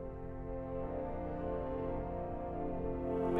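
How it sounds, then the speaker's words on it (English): The solo-division string stops of a church pipe organ hold a soft, sustained chord, faint and steady, with a thin, bright tone and no voices. "the solo strings sound like this"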